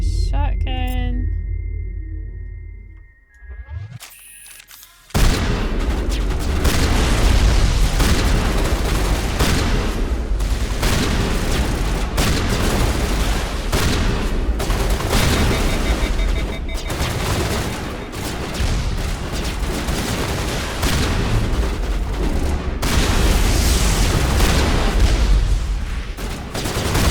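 Shotgun blasts and heavy gunfire in the game Mass Effect 1 Legendary Edition, erupting after a brief quiet start into loud, continuous battle noise with repeated booming shots, and a voice talking over it.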